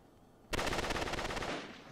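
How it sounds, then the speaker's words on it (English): A burst of rapid automatic gunfire from enemies in Uncharted 3 starts abruptly and runs for about a second as a dense string of loud, close shots, then tails off into echo. "They're just shooting me through walls and shit."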